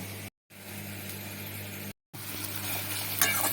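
Onions frying in a pan for a Bengali rohu fish kalia, giving a steady close sizzle with a low hum beneath, cut by two brief silent gaps.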